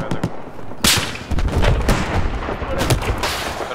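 Gunfire in the Battlefield 4 video game, a string of loud sharp shots and booming blasts in irregular bursts, close and dense, with faint talk underneath.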